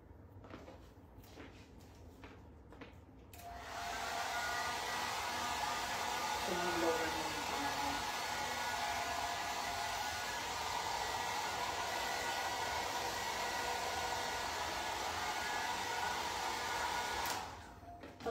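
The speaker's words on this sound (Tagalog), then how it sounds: "patayin ko muna yung aircon" An air conditioner in a hotel room in Macau kicks in after a few seconds of quiet and runs as a steady, loud blowing hiss, then cuts off abruptly near the end.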